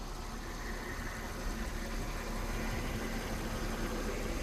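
Mercedes-Benz M272 engine idles steadily after intake manifold repair, a low, even hum with no stumbles or misfires, heard close up and alone.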